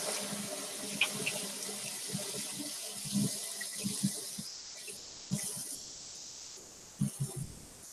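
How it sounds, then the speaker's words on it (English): Running water from a kitchen tap as hands are rinsed, a steady close splashing stream with soft bumps and shifts in the flow, alone without talk. "I need to rinse my hands off real fast."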